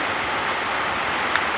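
Rain falls steadily at a rural Thai roadside spot, a dense, even hiss of drops with one brief sharper tap near the end.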